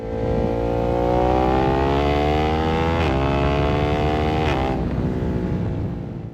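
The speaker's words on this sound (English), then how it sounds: "hearing the Testastretta work its magic and explode fuel" A Ducati Monster motorcycle with a Testastretta engine runs up through the gears, its loud, close exhaust note climbing steadily in pitch, with two brief dips at the shifts before it rises again.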